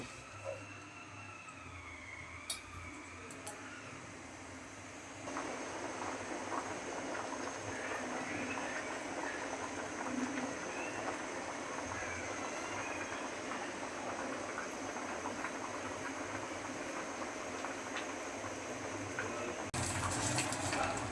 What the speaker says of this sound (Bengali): এখন ডালটা কিছুক্ষণ ফুটে গেলেই নামিয়ে নেব।